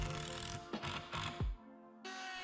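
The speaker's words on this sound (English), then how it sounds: "screw everything together" Screws being driven into wooden ladder pieces, a short run of close ratcheting, whirring mechanical bursts with brief pauses, then a steadier hum near the end.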